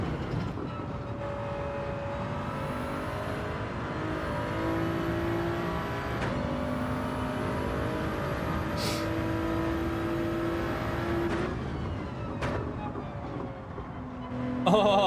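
A race car engine in Gran Turismo 7 holds a steady, loud drone with rising and falling tones as it is floored through a daily race, broken by a few brief bumps and clicks.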